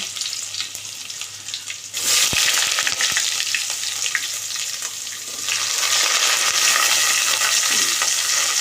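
Onions and curry leaves hit hot oil after popping mustard seeds, bursting into a loud, close crackling sizzle that jumps up sharply and surges again midway, with stirring scrapes beneath it.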